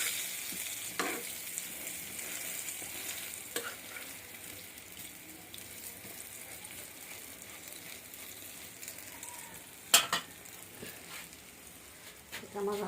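Eggplant slices frying in a home kitchen pan give a steady, moderate sizzle throughout, with a few sharp clinks of a utensil against the pan and faint background voices at times.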